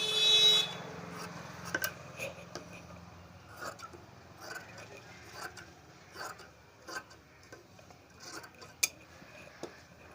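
Scissors snip through blouse lining fabric in a quiet room, a string of small sharp clicks and crisp cuts spaced irregularly, each one brief and close, with a short rustle of cloth at the start.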